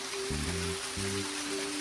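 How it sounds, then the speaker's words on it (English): Small waterfall cascading on the East Fork San Gabriel River, a steady broadband rush of falling water, close and continuous, with some low tonal hum layered underneath. "I guess you could call this a waterfall, a small waterfall"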